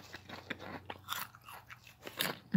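Lay's sour cream and onion potato chips crunching in the mouth, with a close, quiet series of crisp bites and chewing crackles coming in irregular bursts.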